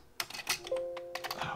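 A few quick keystrokes on a Commodore 64 keyboard, clacking close by in short irregular bursts, with a brief steady tone sounding underneath partway through.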